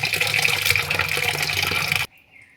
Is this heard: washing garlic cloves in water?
yes